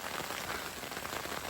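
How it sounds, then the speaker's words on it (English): Hail pelting a tent during a mountain storm at Victoria Lake in the South San Juan Wilderness, a dense, steady patter of hard drops drumming the fabric close by, with no voices. "It's hailing."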